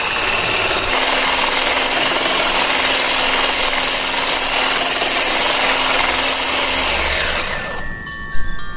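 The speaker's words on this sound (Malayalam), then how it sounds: "എന്നിട്ട് സ്ലോ സ്പീഡിൽ ബീറ്റ് ചെയ്തെടുക്കുക." An electric hand mixer beats 100 grams of unsalted butter at slow speed for plum cake batter, a steady close whirring drone that cuts off near the end.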